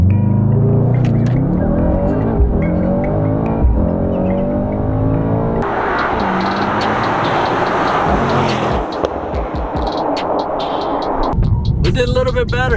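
A Mercedes-AMG GT63S launches hard from a standstill, its exhaust rising through loud, rapid revving engine tones with gear changes, while a person talks over the roar.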